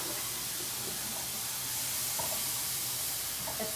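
Egg rolls sizzle in a hot wok as a steady, loud broadband hiss of oil and steam, with faint clicks and pops scattered through it.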